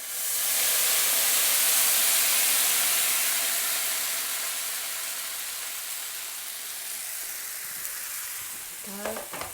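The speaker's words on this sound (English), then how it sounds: "get your kettle and pour very carefully because it will sizzle" Water from a kettle hits a hot casserole pan with a loud burst of sizzling hiss that slowly fades to a softer crackle, ending with a faint clink.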